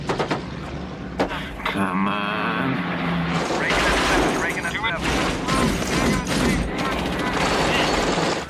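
Machine guns fire in rapid bursts during an aerial battle between American bombers and German fighters in a World War II film, loud and dense, with roaring aircraft engines and heavy rattling volleys under a narrator's voice.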